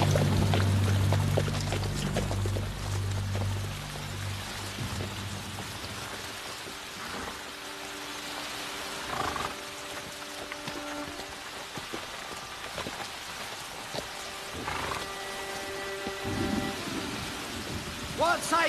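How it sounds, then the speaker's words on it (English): Steady rain and rolling thunder from a storm outside a gated abbey, heard as continuous broadband noise with low rumbles, mostly in the opening seconds, with scattered voices and other sounds over it later. "Abbot, Marcus, we seek shelter from the storm. Open the gates"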